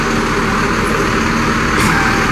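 A truck passes on a nearby road, a steady broadband engine and tyre rumble holding for the whole stretch, loud and close, with no talk over it.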